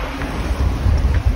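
Wind gusts and rumbles against the microphone outdoors while someone walks, a steady, loud buffeting with no voices.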